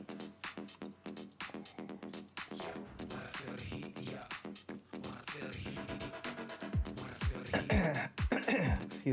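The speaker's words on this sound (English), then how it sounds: "Excuse me, clear my throat a little bit." A man clears his throat several times in quick rough bursts, close to the mic, mixed with breathing and faint background game-menu sound.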